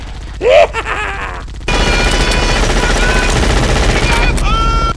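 Twin machine gun turrets in the Halo video game fire in one loud, continuous, rapid burst that runs to the end, preceded by a short vocal groan.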